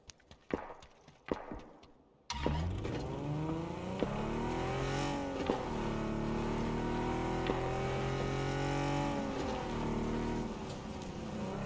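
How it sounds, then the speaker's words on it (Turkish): Car engine in the PUBG video game, a steady loud drone that starts abruptly after a few sharp knocks, holding a continuous rumbling tone that rises and falls slightly as the vehicle drives on. "Tamam arabayla geliyorum size doğru."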